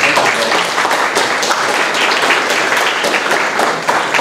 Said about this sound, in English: Round of applause for all of our speakers tonight.